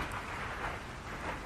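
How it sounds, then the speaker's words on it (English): Heavy rain in the video game Ark: Survival pours as a dense, constant hiss that fills the whole sound with no breaks and no voices. "because of this rain, you can't hear what I'm saying"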